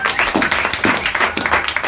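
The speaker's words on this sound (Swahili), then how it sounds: "Hebu nisikie makofi," A church congregation clapping in praise during a Bible study and prayer service, loud rhythmic clapping in steady pulses throughout.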